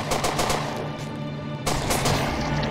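Rapid gunfire from a small weapon in an indie sci-fi horror game rattles off in quick successive shots. The volley breaks briefly and then resumes, loud and close.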